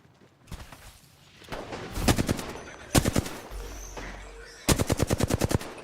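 Gunfire in Apex Legends: rapid automatic bursts of shots in several volleys, loud and close, with a longer sustained burst near the end and no talking.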